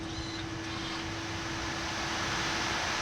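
Boeing 787 taxiing at Amman airport, heard from the cockpit as a steady, loud engine and airflow roar with a constant hum running through it, no voices.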